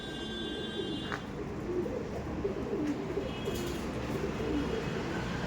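Andhra breed pigeons coo softly in a low, rolling, repeated pattern that runs continuously against a steady background hum.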